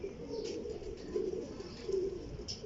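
A golden pigeon gives soft, low, repeated coos at a close distance, faint and steady against light background hiss, with no talk.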